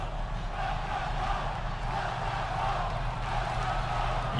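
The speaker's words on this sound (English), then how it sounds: "You can hear this crowd chanting" A video game wrestling arena crowd in WWE 2K22 chants and roars as a steady, dense wall of voices, continuous and moderately loud throughout without a break.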